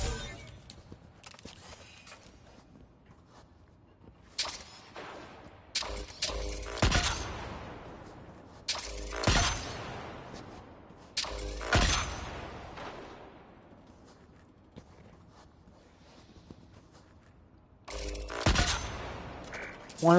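Gunfire from the video game Destiny 2 plays during a Grandmaster Nightfall run, with bursts of sharp, loud shots and rapid fire breaking up quieter stretches of in-game ambience.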